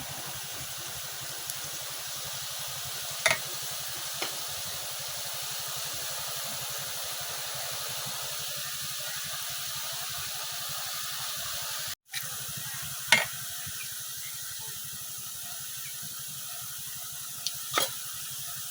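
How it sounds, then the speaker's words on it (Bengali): Gram flour boondi batter fries in hot oil with a faint, steady hiss and bubbling, broken by a few sharp clicks of a spoon. "এখন বুড়িটা ভাজা শুরু করলাম।"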